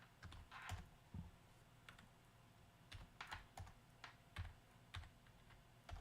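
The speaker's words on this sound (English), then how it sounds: "I can't type on this fucking keyboard." Fingers type on a computer keyboard in irregular bursts of clicking keystrokes with brief pauses between them, close and alone without talk.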